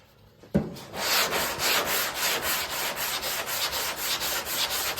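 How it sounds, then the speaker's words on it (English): Body filler over a dent in a car panel being sanded by hand, with steady, rhythmic back-and-forth rasping strokes close up and no talking. "we're going to get this thing sanded out"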